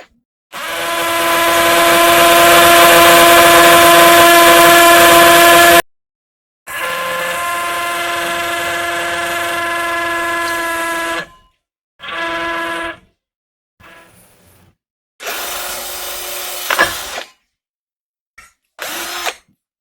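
A Masterflex electric drill whines loudly as it bites into a rod, running in several bursts of varying length separated by short pauses.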